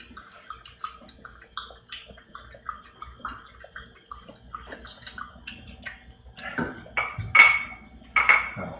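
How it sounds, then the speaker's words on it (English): Running water splashing and trickling into a basin or tub in Houston, with faint clinks of glass or dishes, growing louder and fuller in bursts toward the end. "It's water."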